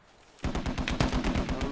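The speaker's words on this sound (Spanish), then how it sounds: "I'm getting shot!" Rapid bursts of automatic gunfire in a squad-based military shooter with tanks, loud and close, a dense rattling volley starting abruptly after a brief quiet lead-in and continuing steadily without pause.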